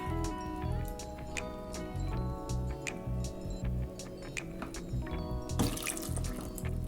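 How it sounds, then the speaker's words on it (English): Orange juice is poured over cranberries in a pan for a Thanksgiving cranberry sauce, giving a steady liquid trickle and drip with faint clinks, close and fairly quiet throughout. "I am now adding orange juice. You want enough orange juice to cover your cranberries."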